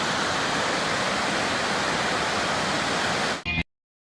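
Steady rushing roar of a mountain river flowing beside a Colorado Trail path, loud and continuous broadband water noise filling the scene before cutting off abruptly near the end.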